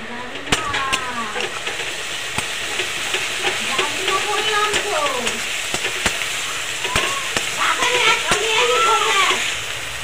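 Spice paste with slit green chillies frying in oil for a mustard-poppy bata fish curry, a steady broadband sizzle and hiss running throughout with occasional sharper crackles, while a person talks over it.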